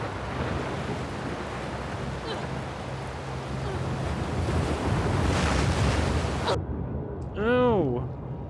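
Ocean waves in The Last of Us Part II roll as a steady, loud rush of surf and wind that swells near the end, broken by a brief warbling electronic tone.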